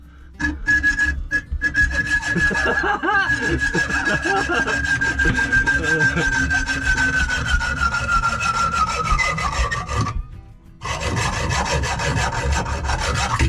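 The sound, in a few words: sawing off two long bolts in boat chain locker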